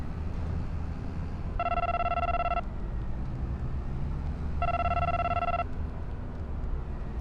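A phone rings twice over a hands-free car call in Farming Simulator 25, two steady electronic rings about three seconds apart above a constant engine and road rumble, with no talking.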